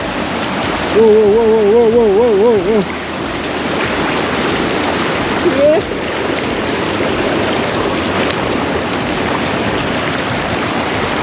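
Rushing mountain stream in Nagaland on a drizzly day, a steady broadband roar of flowing water close by, with a person whooping and briefly speaking over it.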